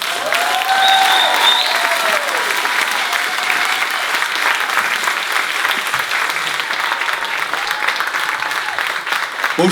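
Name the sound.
audience applause after a singing and beatbox performance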